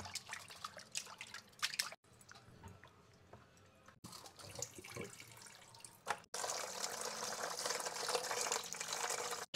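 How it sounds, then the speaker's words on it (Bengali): Tengra fish being washed under water, with faint splashes and drips before a tap runs in a steady hiss for the last few seconds. No one speaks. "এখন মাছগুলি ধুয়ে নিচ্ছি"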